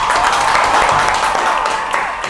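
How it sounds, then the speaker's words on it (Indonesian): Clapping from a small group of people, a steady dense patter lasting a couple of seconds at moderate loudness, with no talk over it. "Tepuk tangan."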